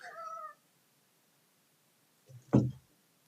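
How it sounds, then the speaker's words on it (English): A house cat gives a short meow, then after a pause lands on a table with a single soft thump and brief scuffle, heard close in a quiet room. "my cat got on the table"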